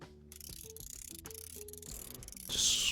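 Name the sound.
screws being removed from a device during repair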